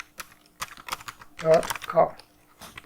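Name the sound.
typing on a computer keyboard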